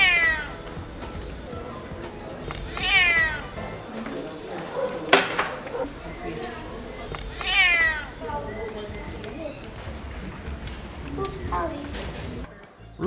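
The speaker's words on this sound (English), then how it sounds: "This alley cat meows like a doorbell, trying to get back in the house." An alley cat in the steep lanes of Alfama, Lisbon, meows repeatedly in loud, drawn-out calls spaced a few seconds apart, with a person talking over parts of it.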